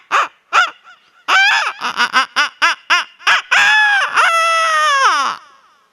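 A comic performer imitates a chicken with his voice at a jubilee stage show, giving a quick string of sharp clucks that build into a long drawn-out squawk, loud and close.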